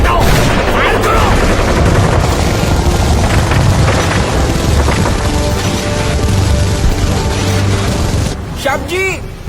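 Gunfire effects in a staged war scene at a Ganpati festival live tableau in Camp, Pune, a loud dense barrage of booming shots and rattling bursts over a heavy rumble, with shouting voices mixed in and whistling sweeps near the end.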